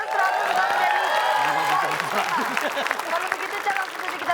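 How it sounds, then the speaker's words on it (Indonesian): A studio audience at a game show claps and cheers, with voices and chatter running through the applause and a strong tonal sound lingering underneath. "Kita kasih tepuk tangan dulu"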